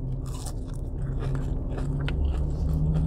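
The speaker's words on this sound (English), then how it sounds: "Super crunchy, and it's real soft-shelled crab." A close, crisp crunch of biting into fried soft-shell crab, followed by wet chewing sounds, with no talking.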